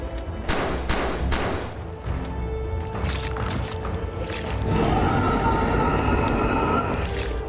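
Video game gunfire aimed at a monster in The Dark Rites of Arkham: several sharp, loud shots in quick succession early on, then a denser, continuous burst of noise later, with no talk over it.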